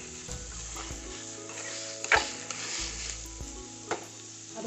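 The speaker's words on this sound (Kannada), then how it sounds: "ಇದು ಸ್ವಲ್ಪ ಕಲ್ಲರ್ ಬರೋ ತನಕನೂ ಇದು ಫ್ರೈ ಮಾಡ್ಕೋಬೇಕು" Gobi manchurian pieces frying in a pan until colored, a steady low sizzle with a few stirring scrapes and utensil knocks on the pan, close and moderately quiet, with no talking.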